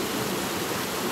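River flowing at a riverside near a trail, a steady broadband rush of moving water, loud and continuous with no breaks and no voices.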